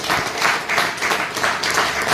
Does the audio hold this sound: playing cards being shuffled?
no